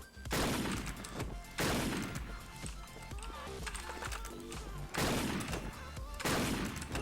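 Loud sniper and rifle gunfire rings out in a shooting video game, with repeated heavy shots at irregular intervals over continuous game sound.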